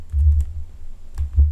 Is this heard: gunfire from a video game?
no